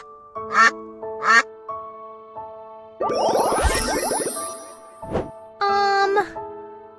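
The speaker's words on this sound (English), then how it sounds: "Duck." A cartoonish duck quack sound effect for a children's bird-naming game sits among chimes and bell-like jingles, with a burst of raspy quacking in the middle and short tonal calls around it.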